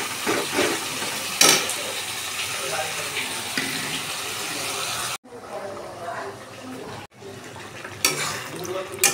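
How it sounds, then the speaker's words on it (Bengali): Spices being sautéed in a pan for an egg omelette curry, a steady loud sizzle with a few sharp utensil clinks and two brief cuts, while a person talks. "এই যে মশলাটা কষছে"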